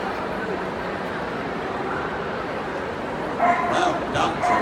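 A working-breed dog in a Crufts display arena gives a few short yips and barks near the end, over steady crowd and hall noise.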